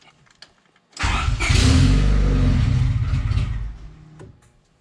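A car engine cranks and catches, revving loudly for a few seconds before faltering and dying away instead of settling into an idle; close and alone, with no talk.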